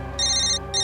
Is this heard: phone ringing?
yes